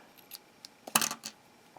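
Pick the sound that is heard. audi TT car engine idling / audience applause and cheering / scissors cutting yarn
scissors cutting yarn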